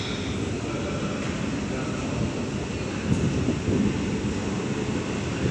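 A Sydney B set electric train approaches Wynyard platform 6 underground, a loud, steady low rumble of motors and wheels filling the platform, with a brief surge of louder rolling noise partway through.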